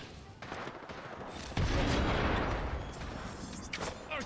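A frag grenade blast in a shooter game, a loud boom arriving about midway through and rumbling over steady game noise and scattered gunfire.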